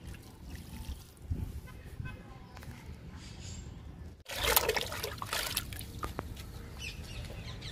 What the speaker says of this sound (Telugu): మల్లె మొక్కకి ఇచ్చేద్దాము లిక్విడ్ని.